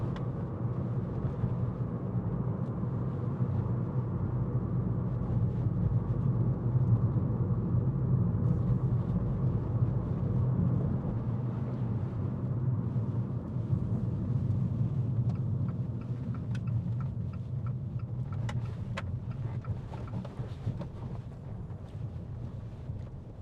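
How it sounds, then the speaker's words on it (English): A 2020 Abarth 595 Turismo 70th with the 1.4 T-Jet engine on a test drive, heard from inside as a steady low engine hum with road and wind noise, fairly quiet and even throughout. "The sound of the engine."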